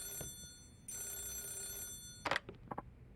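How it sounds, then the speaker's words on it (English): A telephone rings inside the Yakuza 0 video game, a steady electronic ring that stops and restarts, then a few short clicks and knocks follow near the end. "I'm getting a call. Hmm? Is that the phone?"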